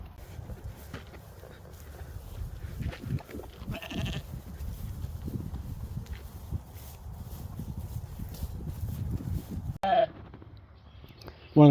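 New Zealand shedding sheep bleat several times in a paddock over a low, continuous rumble of movement outdoors, with a few sharper calls near the end.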